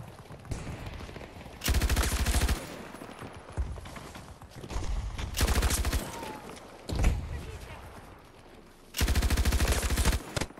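Gunfire in Battlefield 2042: several loud bursts of rapid automatic fire with quieter stretches of distant battle noise between them.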